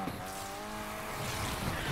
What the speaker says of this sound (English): Man, this car be sliding